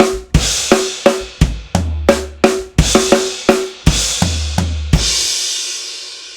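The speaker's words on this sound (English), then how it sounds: "So the left hand is linking up with the crash cymbal a few times throughout this phrase." A drum kit groove of sharp, evenly spaced hits plays up close, with several crash cymbal accents and a final crash washing out and ringing to the end.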